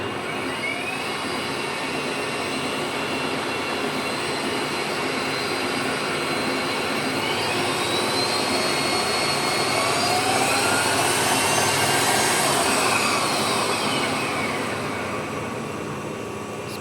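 A ProCharger supercharger spinning up and pushing air through an intake manifold, a loud steady high-pitched whine and rushing roar that rises gradually, holds, then eases off slightly, with no talk.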